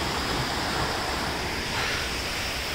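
A mountain stream on a trail near Chopta in Uttarakhand, swollen with heavy flow, roars as a loud, constant broadband rush of water heard up close with no pauses.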